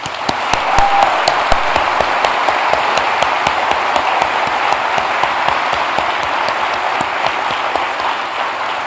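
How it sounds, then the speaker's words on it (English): A big round of applause from the audience at a TEDxAustin event, dense continuous clapping with sharp individual claps standing out, steady and fairly close, lasting the whole stretch without speech. "will you please join me in giving a big round of applause for our speakers"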